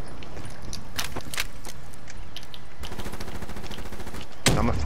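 Rapid gunfire rattles through a shooter video game, bursts of close automatic shots and single cracks with a dense fast volley in the second half and a final loud blast.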